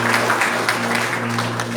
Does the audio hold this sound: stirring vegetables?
no